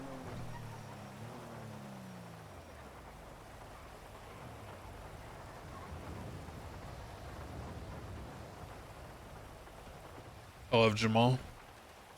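Steady rainfall in a GTA roleplay game, a continuous hiss throughout with low rumbles early on, while a voice speaks briefly near the end.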